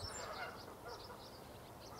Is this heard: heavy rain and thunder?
no